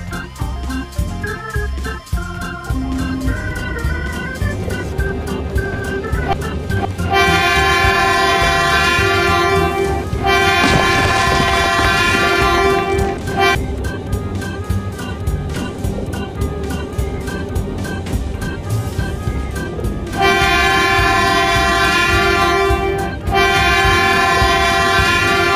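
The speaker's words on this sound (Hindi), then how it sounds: "अब हमारी ट्रेन साइड से पास कर जाएगी।" A kids' toy train running on its track, with a continuous mechanical whir and rattle and repeated tonal horn-like blasts sounding loud and close over about twenty-five seconds.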